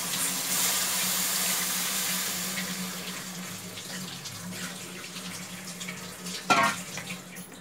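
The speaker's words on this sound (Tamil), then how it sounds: "பால் எடுத்து ஊற்றுறோம்." Coconut milk being poured into a pan, a soft steady watery pour that fades gradually, with a brief louder splash or clatter near the end.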